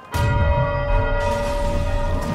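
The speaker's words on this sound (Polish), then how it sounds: "Mamy ostatni dzwon." A bell struck in the co-op video game It Takes Two gives a single loud, sustained metallic ring with a long sounding tail, close and alone without speech.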